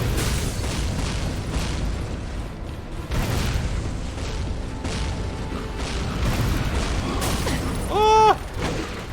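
Rocket blasts in the video game Dreamkiller, a run of booming explosions over busy, noisy game action, with one sharper burst near the end; no talking.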